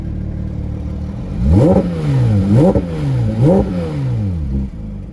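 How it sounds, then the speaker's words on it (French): Porsche 992 GT3 Clubsport engine with the exhaust opened, idling and then blipped three times in sharp rising revs that fall back quickly, loud and close with no talk. "on va pas se gêner quand même pour ouvrir l'échappement et profiter un petit peu du bruit de cette voiture"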